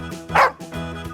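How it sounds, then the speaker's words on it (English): A cartoon dog from a children's farm-animal song gives one short, loud bark over steady background music. "It's a dog."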